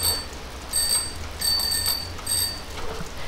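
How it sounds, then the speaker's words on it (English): A bicycle bell in the war game Heroes and Generals rings as a few bright, clear dings in short repeated pairs spread across a few seconds. It is close and fairly loud over a low steady hum. "Yes, there's a bell."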